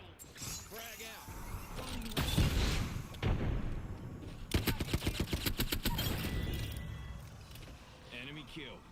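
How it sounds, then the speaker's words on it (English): Gunfire in Apex Legends, a rapid burst of automatic shots in the middle with scattered mechanical clicks and clatter around it, while a voice talks over the action. "Okay, they're shooting at me."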